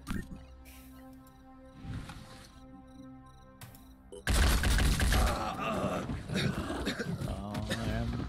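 Gunfire aimed at a Synedrion enemy in the tactical game Phoenix Point: a loud burst of shots erupts partway through and keeps rattling over a heavy, roaring game soundscape, following quieter music and ambience.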